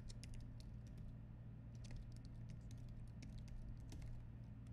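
Rapid keystrokes on a computer keyboard as a website address is typed, a quiet, close pattern of light clicks in short bursts over a steady low hum.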